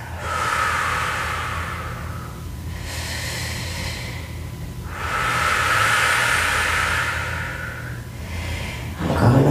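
Slow, deep breathing during a yoga stretch for sciatic relief: long, airy inhales and exhales alternate in a calm rhythm, close and clear, with no talking.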